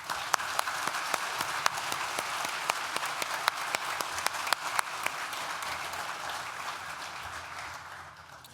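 A hall full of people at a Nottingham Business School graduation ceremony applauds the graduates' supporters. Steady, moderately distant clapping with a few sharp individual claps on top, fading gradually toward the end.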